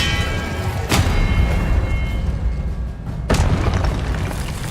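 Spell impacts in Hogwarts Legacy land as two loud, booming blasts about two and a half seconds apart. A dense rumbling battle noise fills the gaps between them.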